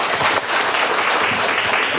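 Steady, dense applause from a symposium audience welcoming a speaker to the podium, filling the room evenly for about two seconds with no break.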